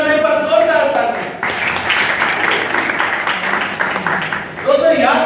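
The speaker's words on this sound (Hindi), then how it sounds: "यीशु के नाम पर जोरदार ताली।" A church congregation bursts into loud, dense applause and clapping for about three seconds, rising after a preacher's voice and cut off as he resumes speaking.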